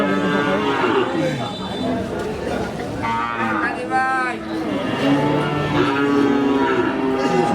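Cattle at a Qurbani livestock market in Gafargaon moo loudly and repeatedly, several long bellowing calls near and far, while people talk and chatter in the crowd around them.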